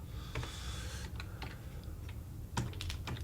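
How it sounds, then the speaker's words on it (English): Keys clatter on a computer keyboard in irregular bursts of close, light clicks with short pauses between, fairly quiet and with no talking. "I am sorry, everyone, about my typing."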